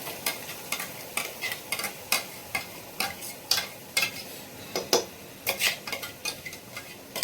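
A spice masala goes into red chilies frying in a pan, with a constant bright sizzle and a run of quick, regular scraping strokes from a utensil, close and fairly loud, without speech.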